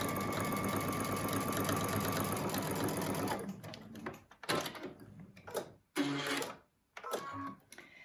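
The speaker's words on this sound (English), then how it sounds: "Then you're going to sew close to the inner side of this seam allowance." A sewing machine stitches a surgical mask seam, running in a steady fast whir for about three seconds, then stopping and restarting in short bursts with clicks and handling noises between.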